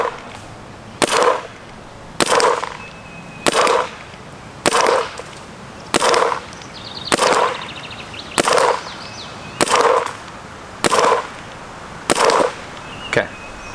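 Ten sharp shots fired one after another through a Freak barrel insert, each a loud crack at steady intervals of about a second and a quarter, nearby and with no talking.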